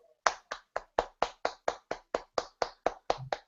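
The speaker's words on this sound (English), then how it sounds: "Let's give Veer a round of applause." A single person or small group claps for a presenter at a talk, about fourteen sharp, evenly spaced claps, close and alone with no voices.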